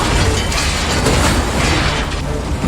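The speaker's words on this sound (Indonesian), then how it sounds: "Suhu kapal semakin meningkat dan ledakan kecil terjadi di beberapa bagian kapal." Dense, continuous rumbling roar with muffled bursts throughout, loud and steady, like a series of small blasts inside an enclosed space: small explosions aboard an overheating ship in a film.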